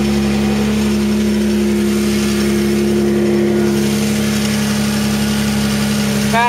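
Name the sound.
Mazda MX-3 engine making odd noise, louder when warm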